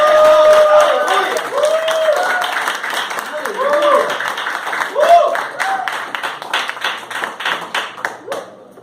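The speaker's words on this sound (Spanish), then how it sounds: "Den un aplauso a Cristo si usted lo quiere." Church congregation clapping in praise of Christ, loud and close, with voices and singing tones mixed in early on, then settling into rhythmic, evenly pulsed clapping that fades toward the end.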